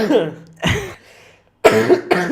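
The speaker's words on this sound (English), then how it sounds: "Sorry, I'm coughing so much." A person coughs in several harsh, close bursts separated by short pauses, loud and dry with some throat-clearing quality, in an indoor podcast setting.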